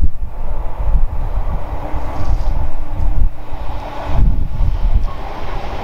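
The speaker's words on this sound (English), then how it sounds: "this is a southbound freightliner or intermodal" A southbound Freightliner intermodal freight train rumbles past on a sunny day, a loud continuous low roar of wagons with rhythmic wheel beats swelling as it passes close by.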